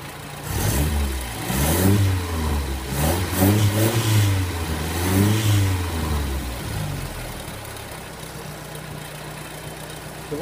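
Sunbeam Alpine car engine running on a test stand, revving in several rising and falling bursts before settling to a steady idle, close and loud with no talk.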